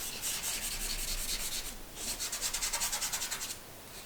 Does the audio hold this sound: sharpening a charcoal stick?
yes